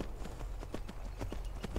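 Horse hooves clop over rocks in a video game, a run of light, fairly even hoofbeats at moderate distance, soft and fairly faint over a low background rumble.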